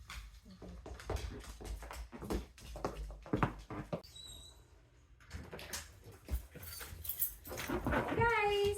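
Dogs whimper and move about with scrabbling, knocking sounds while a person talks to them, and a high thin whine rises near the end.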